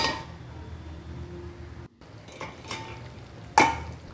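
A spoon stirs fish curry in a cooking pot, a soft scraping and swirling under faint sizzling, followed by a short pause and a few sharp clinks of metal against the pot.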